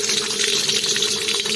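Water pouring steadily into an empty, clean kadhai (wok), a continuous splashing gush with no talk over it.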